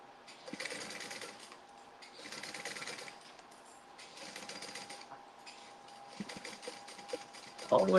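Home sewing machine stitching a tote bag, running in several short bursts with pauses between, moderately loud and close, with a brief louder clatter at the very end.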